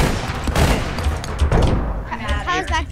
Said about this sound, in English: There's a guy shooting us.